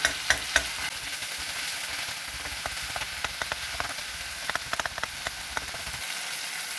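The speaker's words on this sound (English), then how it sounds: "You can just press with your ladle so that the tomatoes get broken and get cooked faster." Tomatoes sizzle and fry in a pan for Indian-style egg rice while a ladle presses and breaks them, giving a steady crackling hiss with scattered small pops and clicks, close up, no talking.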